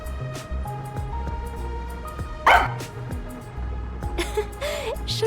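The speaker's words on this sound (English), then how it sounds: "noticed Sugar barking at this room" A dog barks in the video game Master Detective Archive: Rain Code, with a sharp bark or two standing out over steady background game music.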